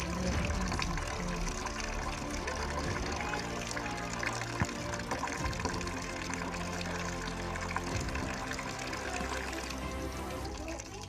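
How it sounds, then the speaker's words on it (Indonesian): Hands are washed with soap under running water, a steady pouring splash that runs without a break and stays fairly loud throughout. "kita mencuci tangan dengan air mengalir dan sabun"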